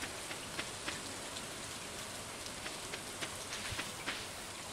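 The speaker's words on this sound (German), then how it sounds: "es regnet" Steady rain falls in the farming video game Stardew Valley, a soft continuous hiss with faint scattered droplet taps, quiet and even throughout with no voices.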